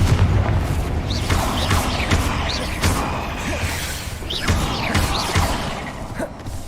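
Fire spell blasts in Hogwarts Legacy, a string of booming impacts and crackling bursts mixed with whooshes and mechanical clatter, loud and dense throughout with several sharp hits.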